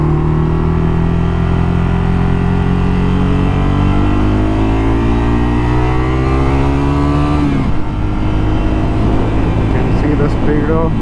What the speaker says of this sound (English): let's get on with riding this bike.